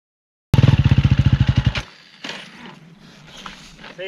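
A motorcycle engine holding the bike on a hill chugs in rapid, even pulses for about a second, then drops to a low idle rumble with some faint clatter.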